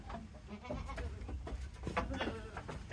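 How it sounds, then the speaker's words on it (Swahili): A dairy goat of an exotic breed kept for milking bleats a few times close by on a farm, amid steady low background noise and rustling. "Huyu ni mbuzi wa kizungu, mbuzi wa maziwa huyu jamani."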